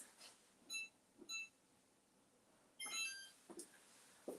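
A kitchen oven timer beeps in short, faint electronic bursts, two separate double chirps followed by another cluster, amid quiet rustling and household clatter.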